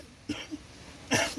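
A person coughs twice, a short soft cough followed after a pause by a stronger, breathier one, close by with no talking in between.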